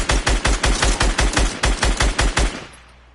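Rapid, evenly spaced gunfire in a building shooter video game, about a dozen loud close shots in one steady burst that stops, leaving a short fading tail.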